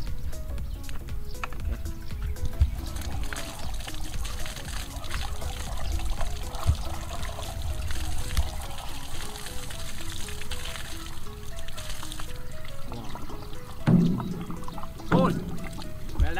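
Water poured into a drum for a homemade air-pressure pump beside a rice field, a steady pouring trickle running throughout with a few knocks and people talking near the end.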